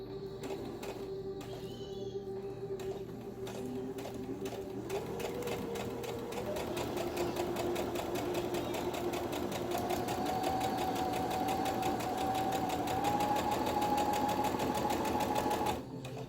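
A sewing machine stitches ribbon strips onto a tutu, running in a fast, steady mechanical chatter that rises slightly in pitch and carries on continuously before stopping abruptly at the end.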